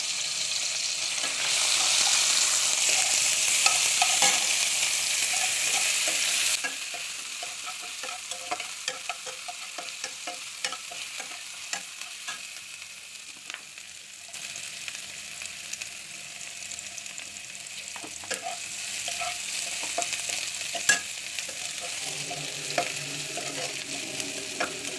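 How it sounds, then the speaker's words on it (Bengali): Garlic, onion, bay leaf and cumin sizzle in hot oil as a tempering for a lentil and vegetable dish, loud and steady at first, then quieter frying with scattered spoon clicks and stirring, close up, no voices. "তেলের মধ্যে একটু রসুন দিব, পেঁয়াজ দিব, তেজপাতা দিব, আর সামান্য একটু জিরা ফোড়ন দিব"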